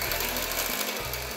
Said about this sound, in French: on prend le batteur qui doit dater de 40 ans avant ma naissance.